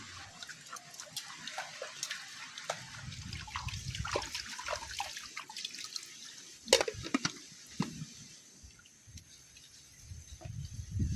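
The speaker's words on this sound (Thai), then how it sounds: "ตอนนี้ก็เรียบร้อยเราล้างพืชผักเนาะ" Vegetables being washed by hand in water outdoors, with light splashing, trickling and dripping in irregular bursts, a sharper splash near the middle, fairly close and moderately quiet.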